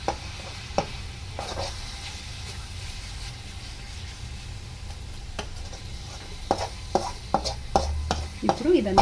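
Fried coconut is stirred through sugar syrup for a sweet, giving a soft low bubbling with a series of sharp spoon scrapes and knocks against the pan that grow more frequent toward the end.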